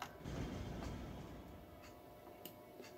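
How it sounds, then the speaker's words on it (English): A train rolls past in the city-building video game Cities: Skylines, a faint low rumble that swells early and slowly fades, with a few soft clicks near the end. "Look, there's a train coming."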